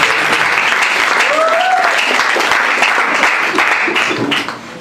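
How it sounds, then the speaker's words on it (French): An audience at a Blind Women Day 2026 event claps for the head of the social centre, with dense, steady applause filling the room and some voices mixed in before it thins out at the end. "Applaudissons pour madame le chef de centre social."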